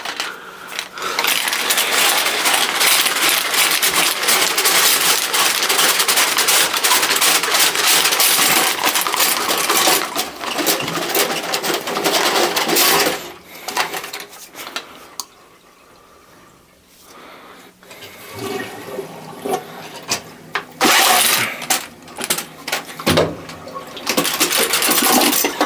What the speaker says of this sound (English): we're going to be running the auger today